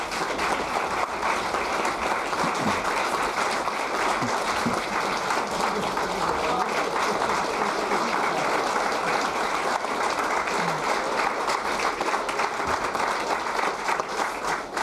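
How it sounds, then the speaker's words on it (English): Sustained, steady applause fills the Alaska State Legislature chamber during a U.S. senator's address, a dense, even wash of many hands clapping that continues at full strength throughout. "So I want to do a round of applause for him as well"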